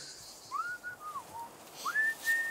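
A man whistles a few short gliding, sliding notes and then a sustained higher tone, close and clear over quiet background.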